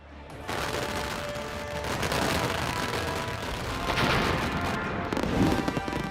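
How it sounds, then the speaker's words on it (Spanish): Dense, continuous crackling and popping explosions of fireworks at a Guy Fawkes bonfire night celebration, loud and sustained, with rapid overlapping bursts like a fusillade throughout. "Y todo tipo de fuegos artificiales."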